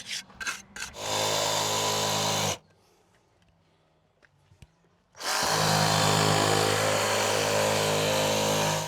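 A trowel scrapes and rubs across wet concrete fill on top of a gabion wall, in two long, loud bursts of rasping noise with a quiet pause between them.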